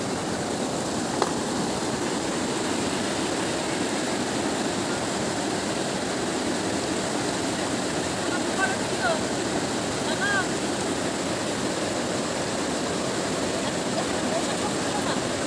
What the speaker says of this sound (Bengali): জলের স্রোত আছে